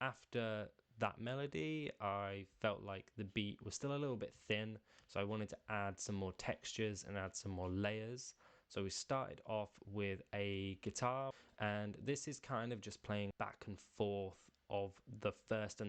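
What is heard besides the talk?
No everyday noise stands out behind the speech.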